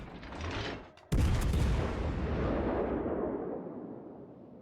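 Naval artillery in World of Warships Legends: a sharp, heavy cannon blast erupts after quieter rumbling, then a long booming roll slowly fades out.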